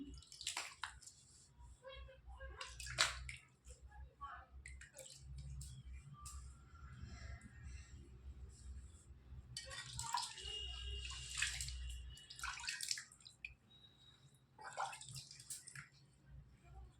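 Water splashes and pours repeatedly indoors as someone bathes after colour play, bursts of splashing and dripping coming in uneven waves close to the microphone, with a low background hum and a few brief murmurs.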